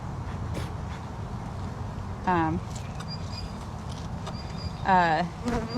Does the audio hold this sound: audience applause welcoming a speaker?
no